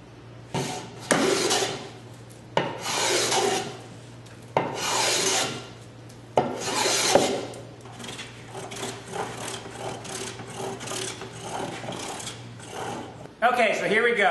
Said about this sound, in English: I like to smooth out the top, bottom, sides, and ends, and I'll put a chamfer on everything